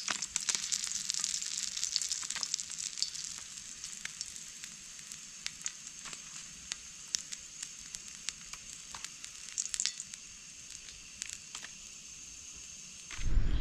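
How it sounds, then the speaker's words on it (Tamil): Snakehead fish frying in oil makes a soft, even sizzle, with scattered crackles and pops over a low background. No voices are heard. "வறுத்ததை நல்லா மொறுமொறுன்னு வந்துருக்கு"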